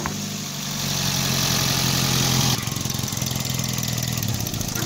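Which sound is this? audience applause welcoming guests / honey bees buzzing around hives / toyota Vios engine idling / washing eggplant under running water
toyota Vios engine idling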